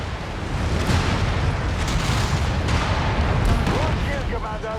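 Mech weapons fire in MechWarrior 5: Mercenaries, a dense, continuous barrage of booming shots and explosions at steady loud level, with a voice talking over the battle.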